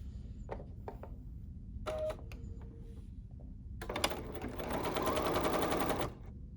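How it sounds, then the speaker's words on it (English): A BERNINA sewing machine running multi-directional stitches: a few short taps and brief motor bursts, then a steady rapid mechanical whir for about two seconds before it stops, fairly close and quiet. "So I'm going to stitch for about an inch using this direction"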